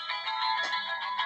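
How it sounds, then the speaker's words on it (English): Electronic phone ringtone sounding during a call, a steady warbling tone pattern repeating in short pulses, fairly quiet and heard alone without talk. "Phone call."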